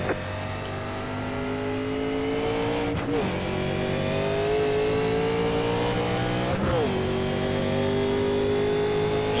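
A 1987 Legends race car engine in iRacing at Rockingham pulls away in a high gear, droning loud and steady with dense harmonics that rise slowly, broken by two brief gear-shift dips before the engine climbs again.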